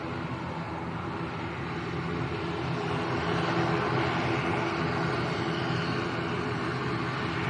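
Canaryfly airliner lining up on the runway at Lanzarote Arrecife Airport, a steady, distant engine rumble and whine that builds slightly and holds without pause.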